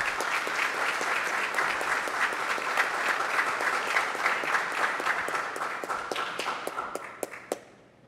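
A church assembly applauds confirmation candidates with steady, crowded clapping that carries for several seconds, then thins to scattered claps and fades out.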